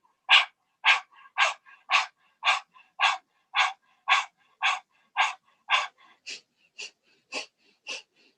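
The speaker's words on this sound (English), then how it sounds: "So start panting first." During a kundalini yoga breathing exercise, one person pants in quick, rhythmic breaths. About fifteen sharp, evenly spaced huffs sound close and clear with nothing else behind them.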